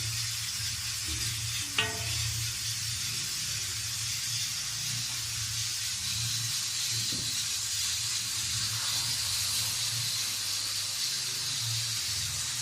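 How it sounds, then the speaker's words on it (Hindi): Milk poured bit by bit into roasting flour in a hot pan, a loud sustained hiss and sizzle with a low rumble beneath and one sharp clink early on. "थोड़ा थोड़ा करके दूध को हमने डालना है, एकदम से दूध नहीं डाल देना।"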